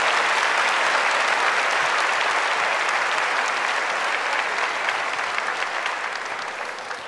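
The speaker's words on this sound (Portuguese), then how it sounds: "Aplauda esse irmão que está do seu lado, essa irmã" A church congregation at a Catholic service applauds, a loud dense wash of clapping that holds steady and then slowly fades toward the end.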